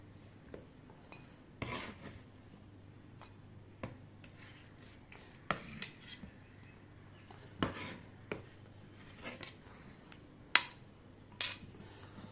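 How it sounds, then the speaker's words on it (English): Cooked chicken curry ingredients are moved onto a plate with utensils, giving scattered clinks, taps and scrapes of metal on dishware. The sparse, quiet knocks are spread irregularly over a faint room hum, with no talking. "Now I'll take all this in a plate."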